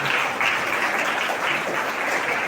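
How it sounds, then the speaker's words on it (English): Audience of students applauding parents at a school Diwali celebration, a steady, dense wash of clapping throughout, fairly loud and without voices. "Students, please give our parents a big round of applause."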